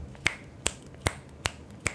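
Five crisp, evenly spaced finger snaps ring out close and loud against a quiet background, each a sharp isolated crack with no talking.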